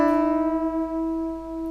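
Electric guitar unison string bend, as in a blues-rock solo like the start of AC/DC's Highway to Hell, two sustained notes merging into one pitch and ringing steadily, played alone and fairly loud.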